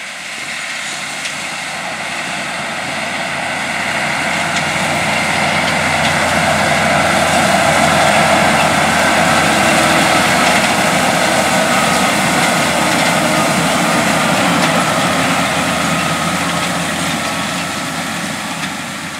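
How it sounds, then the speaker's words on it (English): A John Deere tractor's heavy diesel engine drones steadily for the whole stretch as it pulls a Great Plains Turbo Chopper vertical tillage implement through corn residue, swelling a little as it passes, under a constant rumbling mechanical hum. "This vertical tillage implement is used to size and chop up the corn residue"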